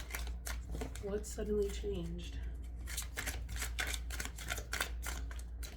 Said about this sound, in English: You guys know this deck is so hard to shuffle. It's so big. Like, the cards are chunky.